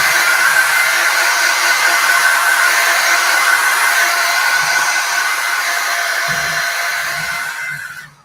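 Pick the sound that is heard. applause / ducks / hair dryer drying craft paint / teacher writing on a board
hair dryer drying craft paint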